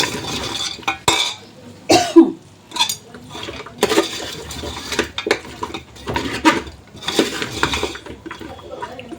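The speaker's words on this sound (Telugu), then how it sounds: "మొత్తం ఒకసారి అయితే కలుపుకోవాలి." Chicken feet curry with ginger-garlic paste masala is stirred in a pan. A spoon scrapes and knocks against the metal in irregular loud bursts, with no talking.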